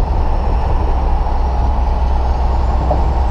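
A loaded sugarcane road-train truck drives along at low speed, its engine and rolling noise a steady, loud, close rumble with no break and no voices.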